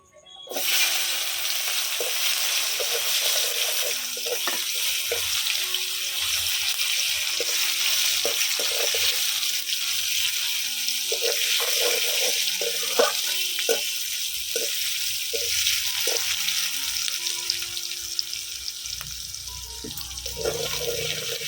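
Chopped onion hits hot oil with a rohu fish head in a village-style pui shak ghonto, a loud steady sizzle running throughout with scattered pops and faint stirring clinks.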